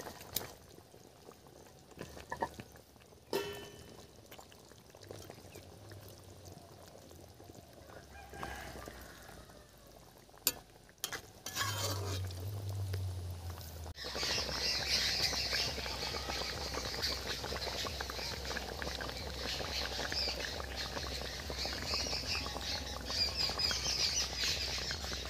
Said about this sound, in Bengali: মাছগুলো এখন ঝোলে দিয়ে দিচ্ছি।